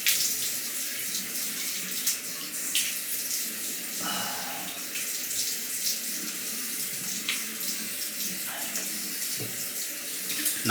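Tap water runs steadily for about ten seconds as a razor is rinsed after a straight-razor shave with Proraso green soap, a close, continuous splashing hiss with a brief change in the flow midway.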